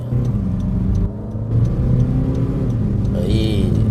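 Fifth-generation Honda CR-V diesel, just after a DPF clean, accelerating hard from inside the cabin. A loud continuous engine drone rises steadily under a faint voice.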